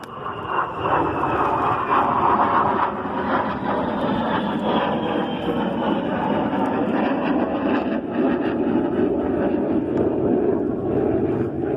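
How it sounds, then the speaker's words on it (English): Loud, continuous roar of airplane engines passing overhead outdoors, steady and broad, with faint voices mixed into the rumble. "Love those planes"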